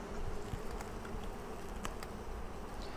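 Honey bees in a Flow Hive being split hum softly and continuously, a faint steady buzz of many insects close by with no talking.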